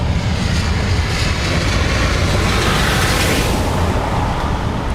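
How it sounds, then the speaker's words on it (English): An ATR turboprop airliner arrives at Dublin Airport from Newcastle, heard as a loud, steady roar of engine and rushing air that holds at full strength throughout. "ATR coming in from Newcastle."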